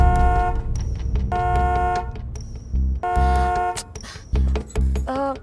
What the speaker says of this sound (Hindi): जरा हॉर्न बजाएंगे